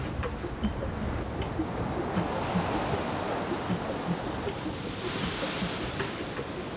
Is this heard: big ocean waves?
yes